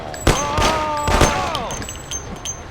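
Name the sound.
gunfire in the video game Mafia: The City of Lost Heaven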